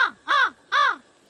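Crows cawing by a riverside, three harsh, nasal calls in quick succession, fairly close and clear against a quiet background.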